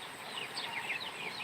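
Native chicken clucking and chirping in a backyard, a steady run of short high calls at moderate distance over a light background hiss.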